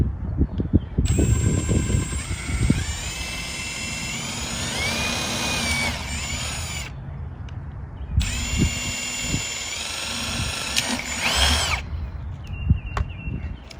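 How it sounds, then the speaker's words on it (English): A power drill whirs in two long runs drilling drainage holes in a gourd for a birdhouse, its motor pitch shifting as it bites, with handling knocks and clatter before and between. "Take this drill."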